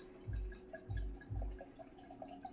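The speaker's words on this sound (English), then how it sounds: "Pour my wine." Red wine glugs from a bottle into a stemless glass, three low, close gurgling pulses followed by a thinner trickle, quiet and without talk.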